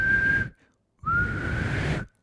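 A person whistles two steady, sustained single-pitch notes near the microphone, separated by a short pause, with a breathy airy edge and no tune.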